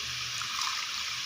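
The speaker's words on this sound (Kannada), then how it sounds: "ಕಾಯಿ ಮಸಾಲ ಹಾಕ್ಬಿಟ್ಟು ಇದಕ್ಕೆ ಸ್ವಲ್ಪ ನೀರು ಬಿಟ್ಕೊಂಡು" Water pours into a pot of mutton sambar over coconut masala, a steady close trickle and splash with no voices.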